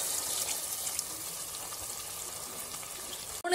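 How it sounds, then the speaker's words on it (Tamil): About three glasses of water pour into a cooking pot of seasoned mutton and macaroni, making a steady, close gushing splash that ends abruptly. "3 கிளாஸ் அளவுக்கு தண்ணி ஊத்திக்கலாம்."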